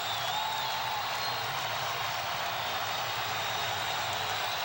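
A basketball arena crowd at the Bradley Center roars in a dense, steady wash of cheering during a close NBA game, loud and sustained without a break.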